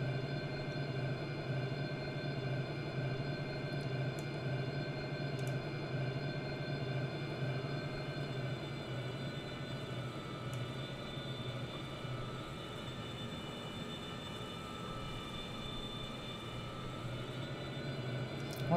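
A Me 262 Schwalbe jet in the B-17: The Mighty 8th video game taxiing, a steady loud engine drone with a high whine and low rumble, continuous and unchanging throughout with no talk.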